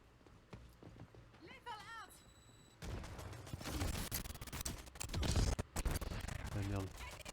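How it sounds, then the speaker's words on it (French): Gunfire from the online shooter Rogue Company crackles in loud bursts through the second half, layered with other game sounds while players talk over it. "Il y a un mec qui tire par là."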